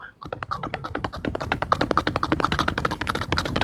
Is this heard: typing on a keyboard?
yes